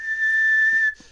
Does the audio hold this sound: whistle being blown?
yes